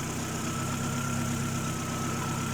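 A Proton Gen2 car engine idles steadily nearby with a low, even hum, no talking.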